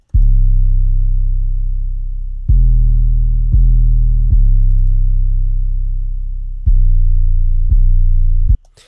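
Deep, booming 808 bass notes, long sustained tones retriggered in a slow pattern, each hit thick and loud with a gradual decay.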